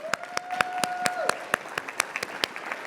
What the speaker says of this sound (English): All right, let's give her a round of applause.